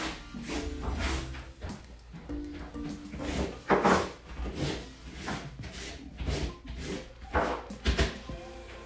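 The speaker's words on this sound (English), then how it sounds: "And I'm using the squeegee to do that." A squeegee pushes water across a bathroom shower floor toward the drain in repeated close, rubbing strokes with short squeaks, each swipe separated by brief pauses.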